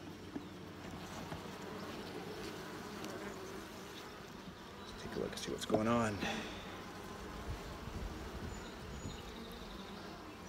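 Honeybees hum steadily around an opened nuc hive frame, a soft continuous buzz close by, with a person talking over it.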